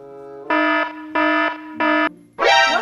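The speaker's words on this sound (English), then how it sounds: "we're gonna have to ask you to put your baggage on the scanner and walk through the metal detector." Airport security metal detector alarm sounding as a passenger walks through: three loud, evenly spaced electronic tones about half a second each, then a harsher, wider buzzing tone at the end, with no talking.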